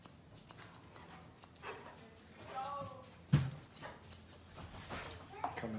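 A giant schnauzer puppy, about eight months old, lets out a few soft whimpers and yips near a haircut in progress, with a brief clatter partway through and a person talking in between.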